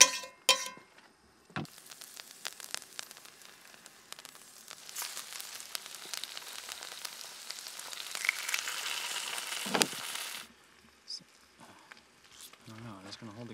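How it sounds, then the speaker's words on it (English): Grouse frying in herb butter made with chives, basil, parsley and dill, a steady close sizzle with crackling spits building through the middle, preceded and followed by brief handling noises. "we are gonna cook it in some of our herb butter"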